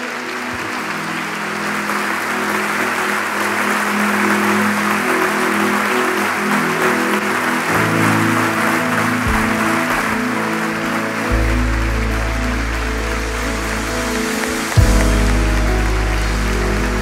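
Church congregation applauding, standing for the King of Kings, in a dense continuous roar of clapping that runs throughout, with sustained low musical tones underneath and a brief knock near the end.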